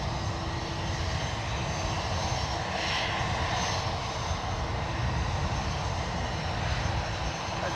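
Aircraft engine roar at San Francisco International Airport, where a WestJet Boeing 737-800 arrives from Calgary; a steady, loud, broadband rumble holds throughout with no talk.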